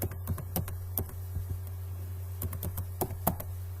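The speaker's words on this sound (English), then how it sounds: "We will just type a text." Text being typed on a computer keyboard: a run of close, crisp key taps in an irregular rhythm with brief pauses, clear and alone over a faint electrical hum.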